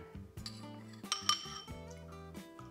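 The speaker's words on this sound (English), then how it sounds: "So we have some white vinegar here and I'm going to add a few spoonfuls to our brine" A metal spoon clinking against a container while spoonfuls of white vinegar go into brine for homemade goat's milk feta: several light, bright taps and chinks close by, with no talk.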